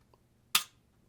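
A single sharp dry-fire trigger break on a SIG P365 XL pistol, one crisp click standing alone in a quiet room.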